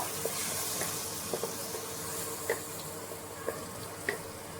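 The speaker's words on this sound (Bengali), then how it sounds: "মশলাটা একটু ভালো করে এখানে কষিয়ে নেব।" Ground spice paste fries in a pan for dahi chingri, a soft continuous sizzle with a few light taps and scrapes of stirring spaced through it.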